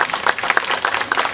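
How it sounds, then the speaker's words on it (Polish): A crowd applauds the scouts at a commemoration of the 68th anniversary of the Warsaw Uprising in Czerniaków: a loud, brief burst of close, crisp clapping from many hands. "Brawa na harcerze,"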